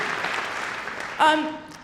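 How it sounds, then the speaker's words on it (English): Brief, fading applause from a high school holiday concert audience for a euphonium soloist, soon giving way to a nearby voice. "Let's give her a round of applause as well."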